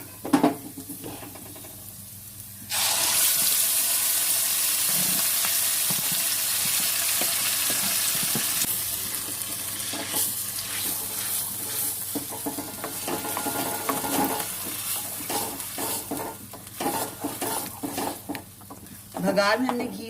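Mustard greens drop into a hot pan of sizzling garlic-ginger tempering with crushed chillies, setting off a loud, sustained frying hiss with stirring and occasional clinks of utensils against the pot, and a voice speaking now and then.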